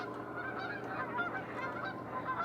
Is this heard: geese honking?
yes